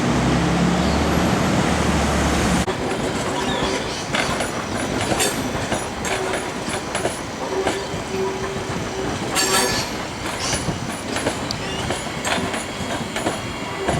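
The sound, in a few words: Seaford line electric train pulling into Adelaide Railway Station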